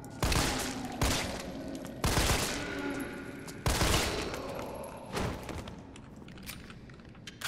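Rapid bursts of heavy gunfire in Resident Evil 3 Remake, each volley starting with a sharp crack and rattling on, repeated about every second, loud and close.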